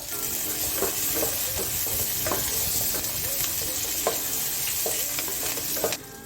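Finely chopped small onions and curry leaves deep fry in hot oil, making a dense continuous sizzle at close range. Light spoon scrapes and clinks against the pan sound at intervals, with no talking.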